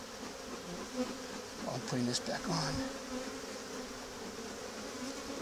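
Honeybees buzz steadily around an open hive during an inspection, a close, dense hum with a few louder passes near the microphone, under a man's brief speech.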